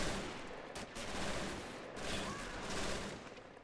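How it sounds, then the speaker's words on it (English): Bursts of MG42 machine gun fire in the WW2 strategy game Men of War: Assault Squad 2, rattling volleys mixed with other gunfire at moderate distance, no speech. "Damn, they're shooting some troops down all the way back here. That MG42 is a menace, even when hip-fired."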